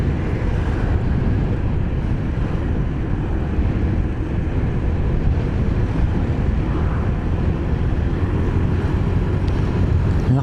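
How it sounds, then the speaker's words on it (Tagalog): Strong wind buffets the microphone while riding a Honda Beat Fi scooter, a loud continuous low rumbling roar with no break throughout. "Lakas ng hangin"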